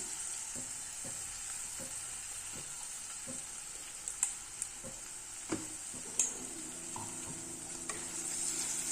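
Ground tomato paste fries in a pan for tomato rice, a soft constant sizzle beneath light ticking stirs and a few sharper spoon knocks against the pan, quiet and close.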